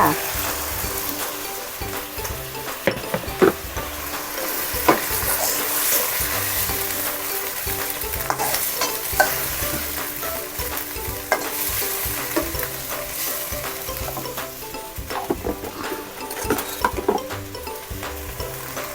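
Scallops stir-fry in a pan with sugar, soy sauce and seasoning for a Thai spicy herb stir-fry, a dense continuous sizzle with frequent scraping and stirring clatter, close and steady throughout, no voices.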